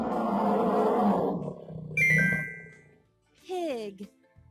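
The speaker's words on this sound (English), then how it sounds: "Bear." Bear giving a deep, rough roar of about a second and a half in a children's animal-sounds lesson, loud and close, followed by brief chimes and cheerful sounds.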